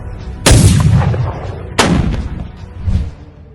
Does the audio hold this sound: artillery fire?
yes